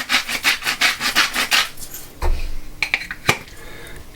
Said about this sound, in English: Little grind of salt,